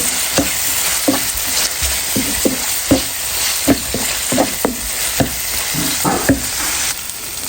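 Dried loitta fish sautéing in a pan, a steady sizzle broken by repeated scraping stirs of the spatula at an irregular rhythm, close and fairly loud, with no talking.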